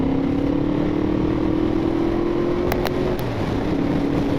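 A Yamaha VMAX 1200 motorcycle engine idles and hums steadily with a low rumble, a faint rising tone sweeping beneath it, a few brief sharp clicks near the end, no voices.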